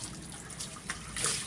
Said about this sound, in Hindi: मैंने धो लिया ठंडे पानी से अपने चेहरा